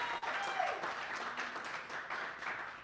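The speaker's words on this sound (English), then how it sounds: "Holding for applause." A live audience at Fieldwork in San Leandro applauds, a dense wash of clapping and crowd noise lasting a few seconds, moderately distant with a voice briefly rising over it.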